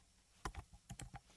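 Several quick keystrokes on a computer keyboard while code is being written, landing in two short bursts of crisp clicks; quiet and close, with no voice over them.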